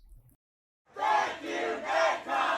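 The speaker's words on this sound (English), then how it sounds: "A crowd of Hollywood writers burst into celebration as word spreads of a tentative agreement with the major studios" A crowd of Hollywood writers erupts in celebration over a tentative strike deal, loud sustained cheering and shouting in swelling waves after a brief quiet start.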